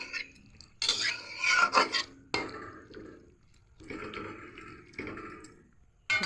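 Water poured into a pot of cooking okra, coming in several splashing bursts of varying length with short pauses between them, close by and moderately loud.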